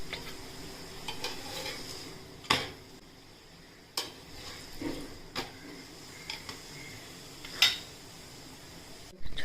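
A spinach paratha cooking on a hot tawa with oil, a quiet sizzle broken by several sharp scrapes and clinks of a spatula against the pan, with no speech.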